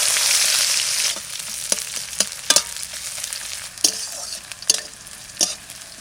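Onion and cumin fry in hot oil for a duck curry, a loud, bright sizzle at first that settles into a softer crackle, broken by repeated scraping stirs of a spoon in the pan.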